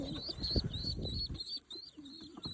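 Pigeons in a nest with two chicks give soft low coos and murmurs, close and fairly quiet, while a steady high bird chirping runs through the background.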